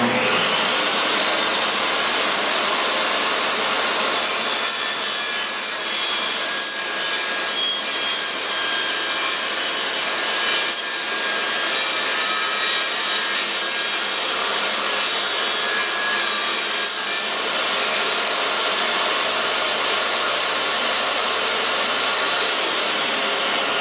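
A Dewalt E7480 table saw cuts through a rough piece of plywood while a shop vac runs continuously. The result is a loud, steady roar of blade and suction lasting the whole stretch, close up and without speech.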